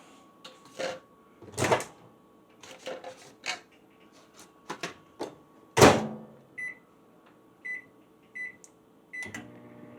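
Microwave oven in a home kitchen, with a hum running through it, door clatter and handling bumps, and repeated short high beeps near the end.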